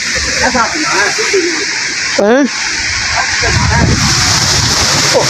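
Steady hiss of rain pouring down in a village, loud and close, with people talking over it.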